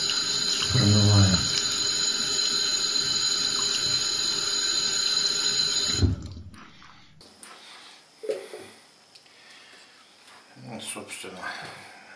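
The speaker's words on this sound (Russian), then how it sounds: "Беру помазок, тоже его горячей водой увлажняю, промываю." A shaving brush is rinsed and moistened under a hot running tap before lathering with liquid shaving cream. Steady, close water flow fills the first six seconds, then stops, leaving quieter handling and faint movement sounds.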